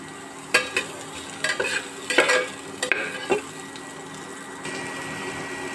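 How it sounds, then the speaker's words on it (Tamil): Chopped onions sauté in hot oil for egg kothu chapati, crackling under a steady sizzle while a spatula scrapes and stirs several times in bursts, then the frying settles into a quieter even hiss. "வெங்காயம் வந்து நல்லா வதங்கட்டும்."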